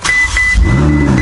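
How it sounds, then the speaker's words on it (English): A Ferrari 488 GTB found abandoned in a storage unit cranks and fires, with a brief starter whine and a low engine rumble catching and settling into a steady close idle. "Yes, it starts!"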